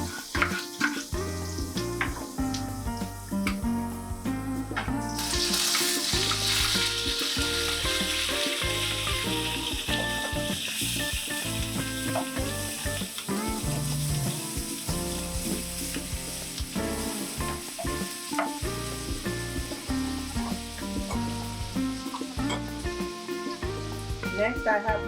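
Minced ginger and garlic sizzle steadily in hot olive oil for a ginger orange salmon, a bright hiss that swells after the first few seconds and runs beneath loud background music.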